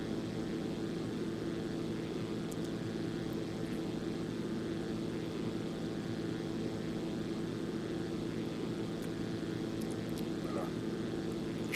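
Single-engine general aviation plane in X-Plane 11, its propeller engine droning steadily at a constant, moderately loud pitch throughout, with a few faint clicks over the hum.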